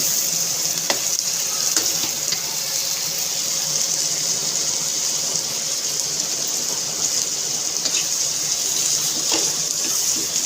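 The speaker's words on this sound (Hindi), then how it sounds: "टमाटर भी साथ के साथ ऐड कर देंगे और थोड़ी सी भुनाई करते रहेंगे" Tomatoes frying and sautéing in a stew pot give off a steady, close sizzle with faint stirring scrapes, continuous and alone throughout.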